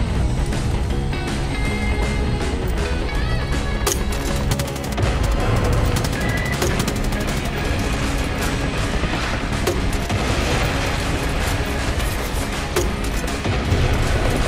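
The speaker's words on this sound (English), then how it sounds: "Man, don't look at explosions." Explosions and rapid gunfire from Far Cry 5's Hours of Darkness mode, including a tower blowing up, fill the scene with loud, continuous layered booms and bursts of automatic fire, sustained without pause and with no talking over it.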